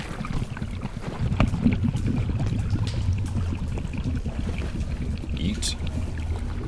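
Steady flowing water fills a scene in the video game Dark and Deep, a continuous rushing wash with a few soft splashes and no talk.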